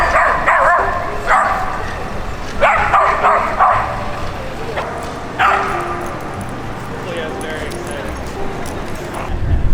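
Several dogs romp in the snow at an impromptu Manhattan dog park during a nor'easter blizzard, giving repeated loud barks and yips in short bursts with whimpers between, while people talk in the background.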